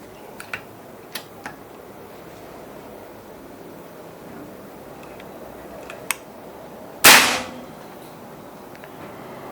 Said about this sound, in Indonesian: Oke, kita coba di 5 kali tembakan ya teman-teman.